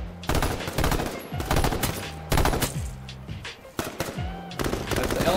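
Light machine gun fire in a video game, loud rapid bursts of shots with brief gaps between them, with faint talk underneath.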